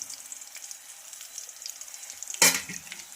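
Green chilies frying with spices in a pan for masala mirchi, a soft steady sizzle running throughout with a brief louder burst of stirring or added spice near the end.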